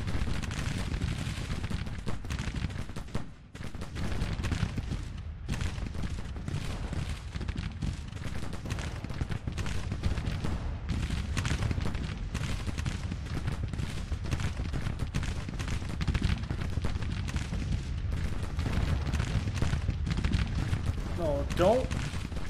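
Dense, continuous battle din from a Civil War strategy game set in spring 1861, with rapid gunfire and artillery booms layered throughout, loud and unbroken, with occasional voices mixed in.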